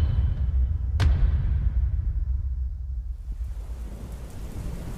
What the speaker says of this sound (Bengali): বাইরে কান ফাটানো শব্দে কাছে পিঠে কোথাও বাজ পড়ল